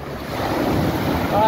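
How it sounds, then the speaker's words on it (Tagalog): Ocean waves surge and wash loudly against the shore of Sombrero Island, mixed with steady wind rushing over the microphone. "Amazing wave."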